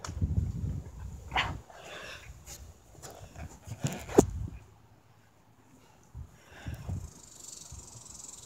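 A nearby dog makes short, intermittent barks and whimpering yelps in several scattered bursts, with quieter gaps between them and no talking.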